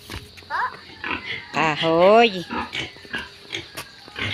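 Backyard pigs grunt and squeal near their feeding spot, with rising and falling calls close by, mixed with people talking.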